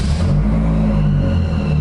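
A drift car build with its turbo not connected runs with a loud, close, low engine rumble and steady whir, a higher turbo-like tone sitting above the deep idle throughout.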